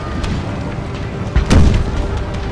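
Confederate artillery fires in a Gettysburg battle in the Total War video game: one deep, heavy boom partway through, set in a constant dense rumble of battlefield noise.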